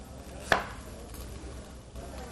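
A single sharp knife chop through skin-on ginger on a cutting board, one crisp strike near the start and then quiet kitchen background.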